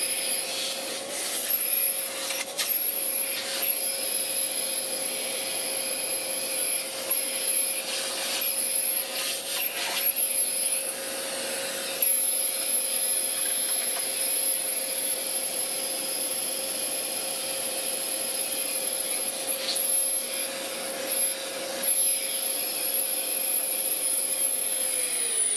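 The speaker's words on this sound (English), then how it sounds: "just vacuuming out that little area inside the base" A vacuum cleaner sucks debris out of the small area inside the base of a Shaper Origin handheld CNC router, a loud continuous whine with a steady high tone, shifting slightly as the nozzle moves about.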